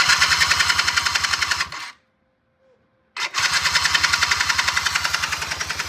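An engine with a choke problem chugs in fast, loud, even pulses, cuts out into about a second and a half of near silence, then catches again and runs on with the same rapid knocking rhythm.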